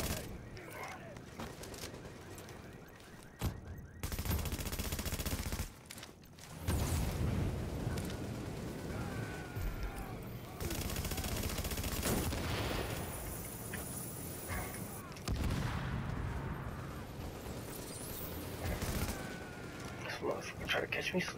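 Gunfire in The Division video game during a boss fight in the Dark Zone, bursts of shooting and impacts filling most of the stretch with brief lulls, loud and continuous.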